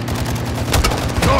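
Dense automatic gunfire and bursts in the Modern Warfare 2 campaign, loud and continuous with heavier booming shots near the end, while voices call out over the fighting.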